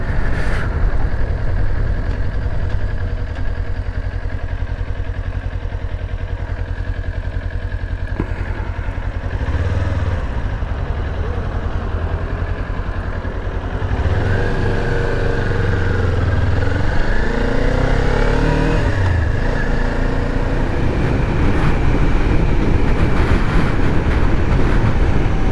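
A car drives through a city park, its steady engine hum and road rumble loud and continuous throughout, with no talking.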